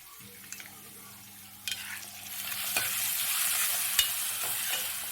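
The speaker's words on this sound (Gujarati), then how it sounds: "હવે એને થોડું આપણે મીઠું નાખી દેવાનું છે સ્વાદ પ્રમાણે અને સરસ એને હલાવી લેવાનું છે" Chopped potatoes with salt are stirred in a hot pan while cooking poha with green chutney, a steady close sizzle with scraping spoon clicks and a few sharp knocks.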